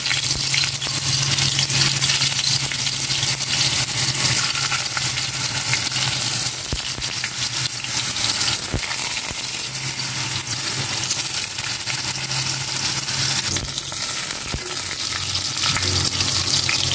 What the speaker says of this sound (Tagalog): I-prito ko na itong tokwa.